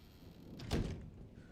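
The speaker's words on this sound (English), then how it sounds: "I'm gonna close this door." A door closing in the video game Resident Evil Requiem, a single soft sliding thunk near the middle, faint and alone against a quiet background.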